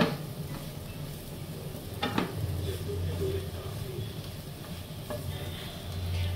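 Mushrooms frying in garlic butter in a pan, a steady soft sizzle with occasional stirring scrapes and a couple of brief clinks, close and moderately quiet throughout.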